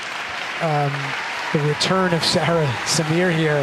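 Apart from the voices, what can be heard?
applause from the weightlifting arena audience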